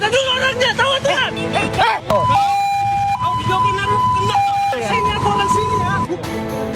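An ambulance siren wails loudly and close by in a street, its tone switching between high and low pitches, with shouting voices and crowd noise underneath.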